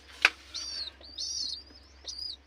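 Pet pigeons in a rooftop loft give three short, high chirping calls spread over a few seconds, each a bright squeak after a sharp click at the start, close by against quiet background hum.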